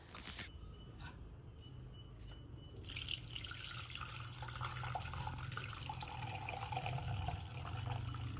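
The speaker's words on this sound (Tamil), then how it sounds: "இந்த தண்ணியை வேறதாக வடிகட்டி எடுத்துருவோம்" Vinegar-curdled milk being strained for homemade cheese, the whey water pouring and trickling steadily, close and fairly faint, after a few brief knocks at the start.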